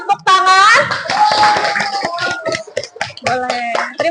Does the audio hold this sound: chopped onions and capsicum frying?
no